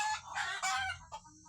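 Free-range Indonesian village chickens (ayam kampung) cluck and crow loudly and close by, one bird's calls overlapping another's in a busy burst of fowl noise.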